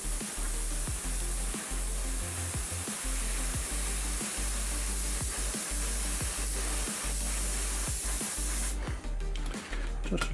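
Enamel sleeper-grime weathering paint sprays as a steady, close airbrush hiss onto a metal-bodied model railway wagon, continuous for the whole stretch with a faint rhythmic ticking underneath, then cutting off near the end.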